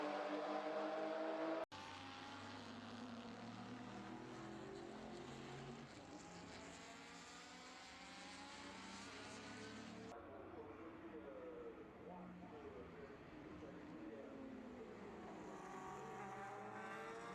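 Group C racing cars circulate on track at the Le Mans Classic, their engines forming a continuous roar that rises and falls as cars pass, heard under a narrator's voice.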